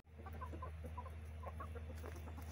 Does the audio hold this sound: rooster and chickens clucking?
yes